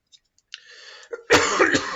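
A single throat-clearing cough from a man lecturing on back pain, starting after faint breaths, then a loud rasping burst close to the microphone.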